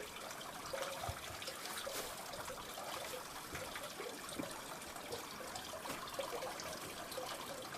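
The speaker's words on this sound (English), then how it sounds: "Let's listen to the water for a second." Steady trickling stream water flows continuously on a state park trail in Lost Maples, Texas, a soft, even burble with no voices over it.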